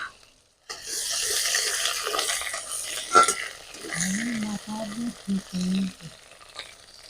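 Chopped tomato and ginger paste sizzle in a hot pan with a steady crackling fry, briefly broken by stirring and a short clatter, then fading into softer bubbling.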